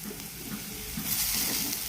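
Tomatoes fry in a pan with sautéed onions for a fish curry, a soft, steady sizzle with faint stirring that grows slightly louder before abruptly stopping.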